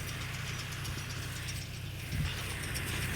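A straw baling machine ties rice straw bales in a field, giving a continuous mechanical whirring and ratcheting with a low drone underneath and a brief clunk near the end.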